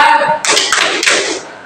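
A classroom of students clapping a rhythmic clap chant, a few sharp bursts of claps in a pattern, loud and close, with faint voices at the start.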